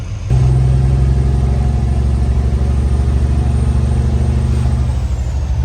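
A truck engine with clogged fuel filters from bad fuel idles loud and close while warming up, a steady low diesel rumble that holds unchanged for several seconds with no talking.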